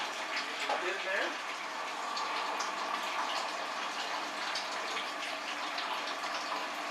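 Hot liquid pouring from the hot liquor tank into a mash tun on a home brew day for a blonde ale, a steady, moderately faint splashing rush of water running throughout, without voices.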